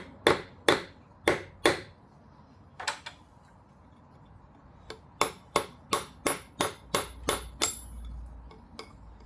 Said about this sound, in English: The cavalry horseshoe driving hammer just seems really pretty good for this